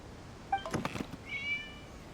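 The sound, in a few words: cat meowing in Genshin Impact video game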